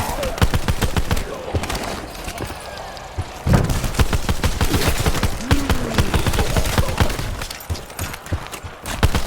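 Pistol fire rattles in rapid, dense bursts during a Call of Duty Black Ops 4 Zombies round on the IX map, loud sharp cracks coming almost continuously with brief lulls, mixed with game effects.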